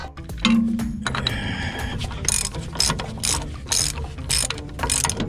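A ratchet wrench clicks in rapid bursts of pawl ratcheting while breaking a bolt loose on an excavator track roller, with metallic clinks between strokes, close and fairly loud with no talk.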